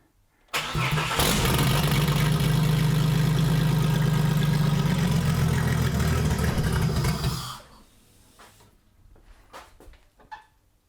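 A car with a GT45 turbo fitted cranks over loudly for about seven seconds after its fuel pump is primed, a steady churning drone that cuts off and leaves faint clicks and small knocks.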